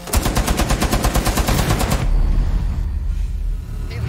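Tachanka's mounted turret machine gun in Rainbow Six Siege fires a loud, rapid stream of close shots for about two seconds, then stops, leaving a low rumble.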